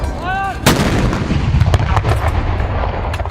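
A ceremonial 21-gun cannon salute given as a guard of honour for a visiting prime minister in Lahore; a single loud, sharp artillery blast rings out, followed by rolling echo and a dense crackling aftermath.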